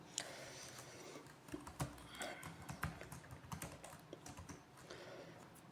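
Someone types JavaScript code on a computer keyboard, producing quiet, irregular clicking keystrokes in uneven bursts, close but faint and with no speech.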